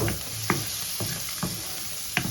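Beef liver and fat sautéing in a pan with salt, the fat starting to melt, giving a steady frying sizzle broken by several sharp stirring scrapes at regular intervals.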